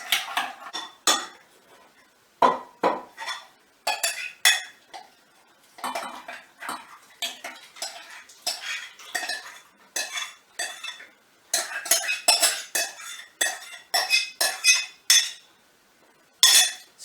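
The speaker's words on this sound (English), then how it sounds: "Stirring all the time. For about 3 to 4 minutes." A utensil scrapes and clinks against a pan in bursts as food is stirred continuously, close and sharp, with short gaps between strokes and no speech.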